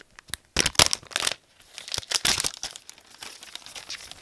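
Glossy cellophane wrapping on a large power strip crinkles up close in bursts of sharp crackling and rustling, with short pauses between handlings.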